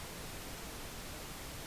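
Pink noise from an Xvive AT-1 portable audio tester fed into a converter input, a steady, even hiss that fills the whole clip without change, alone and with no talking.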